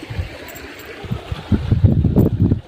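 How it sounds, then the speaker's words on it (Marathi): Rainwater rushing along a small field drain after heavy rain, a low gurgling flow that swells louder in the second half, with light wind noise. "आता बघू शकतो मी खूप खळखळ पाणी वाहतं"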